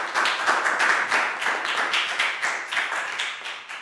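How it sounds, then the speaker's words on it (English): A Year 4 class claps together in a classroom, loud, fast and continuous for a few seconds, close up with no talking over it. "High five for Pak Bung and a big round of applause."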